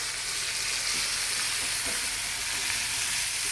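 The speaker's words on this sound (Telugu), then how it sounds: "ఇది మంచిగా ఫ్రై కావాలండి" Washed moringa leaves fry in a pan with a steady, close sizzle that holds evenly throughout, alone without talk.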